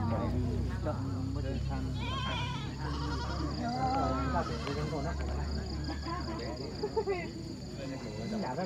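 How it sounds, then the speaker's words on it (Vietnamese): Goats, including male goats, bleat repeatedly at a mountain market, several wavering calls near and mid-distance amid crowd murmur and voices talking. "Đây có con dê đực."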